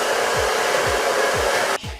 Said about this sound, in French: On ne met jamais un sèche-cheveux trop fort, trop chaud.